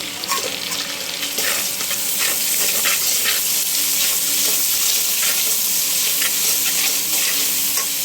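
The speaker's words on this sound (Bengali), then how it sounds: "পেস্টটা ভাজা ভাজা করে নিচ্ছি।" A spice paste with ginger paste and salt fries in a pan, giving a steady, loud sizzle with scraping stir strokes throughout and no speech.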